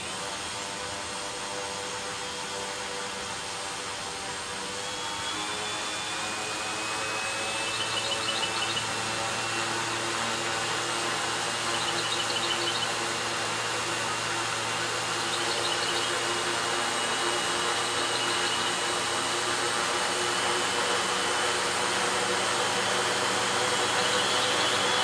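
Small T650Q quadcopter motors spin up and hold a steady, even electric whine on a first flight at around half throttle, a continuous near hum that swells slightly after the first few seconds and stays constant, with no talking.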